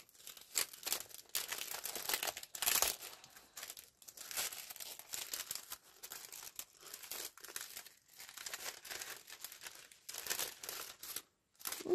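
Plastic sachet from a Temu parcel crinkled and handled during unboxing, close and crisp: irregular bursts of crackling and rustling with short pauses, fairly quiet overall, no talking.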